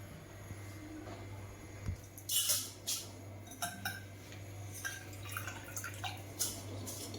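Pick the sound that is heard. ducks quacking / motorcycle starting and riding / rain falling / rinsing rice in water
rinsing rice in water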